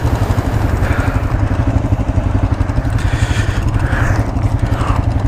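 A 2018 Yamaha Kodiak 450 ATV engine runs steadily while driving in automatic, a close, loud low-pitched rumble with a rapid pulsing beat and clattering, continuous throughout.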